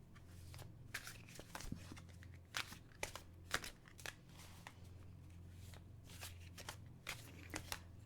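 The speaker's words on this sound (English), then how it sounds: "let's shuffle." A deck of cards shuffled up close in a quiet room, with repeated crisp riffling bursts and papery snaps scattered irregularly throughout.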